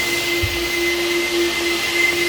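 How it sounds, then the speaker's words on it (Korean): A vacuum cleaner runs steadily during a car steam-cleaning job, giving a constant loud whine with a sustained tonal hum and no breaks, close by and alone, with no voices. "제가 이제 청소기를 한번 켜고 저쪽에 작업을 한번 해보겠습니다."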